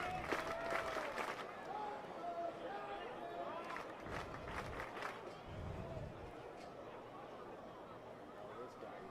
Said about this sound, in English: Crowd really getting into this one here late.